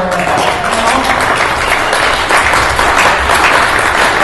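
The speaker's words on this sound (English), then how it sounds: "please give a big round of applause for" An audience at a Portland in the Sixties gathering gives a dense, sustained round of applause, loud and even throughout, with no break.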